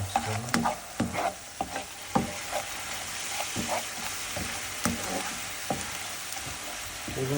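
Turmeric and other spices are stirred together in a pan, giving repeated scraping and clinking strokes over a soft background hiss, close and moderately loud with no voices.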